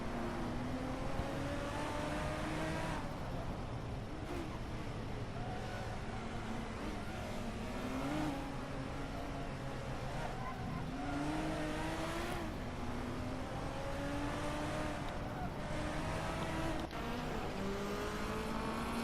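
Racing cars in a racing video game accelerate and run together, engines whining and rising through gear changes in a steady layered drone that continues without pause.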